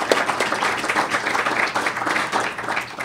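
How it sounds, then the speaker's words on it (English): An audience claps steadily for speaker April Dunford at a Startup Grind Ottawa event, dense and fairly loud across the whole stretch, with no voices over it. "I'd like to just give a round of applause to April."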